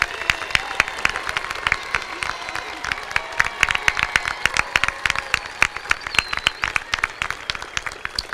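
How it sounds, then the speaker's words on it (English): A high school class of 2019 at its graduation ceremony rises and applauds supporters, producing steady, dense hand clapping with a few scattered sharp claps standing out over an indoor crowd for several seconds. "Turn and applaud those that supported you"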